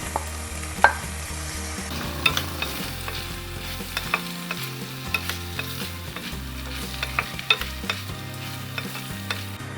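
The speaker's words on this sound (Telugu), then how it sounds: "ఇది red chilli sauce tomato sauce soya sauce pasta వేసుకుందాం" Pasta tossed in a pan with red chilli, tomato and soy sauces makes a soft continuous sizzle, punctuated by sharp scraping clicks of a spoon, with a low background hum and no talking.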